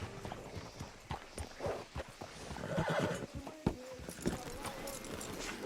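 A horse in Red Dead Redemption 2 whinnies and snorts while its hooves clop on the ground, close and fairly loud, with a few soft thuds mixed in.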